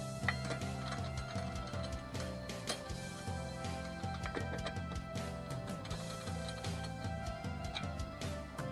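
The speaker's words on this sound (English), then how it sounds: "now we're just going to take our lug wrench and twist it like that." A lug wrench turning lug nuts off a car wheel gives a steady run of close, rhythmic ratcheting clicks and metallic grinding, continuous and fairly loud with no talk over it.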